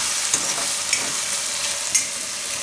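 Eggplant frying in oil in a pan for a Gujarati dahi ringna shaak, a steady sizzle with a few soft stirring clinks, close and without talk.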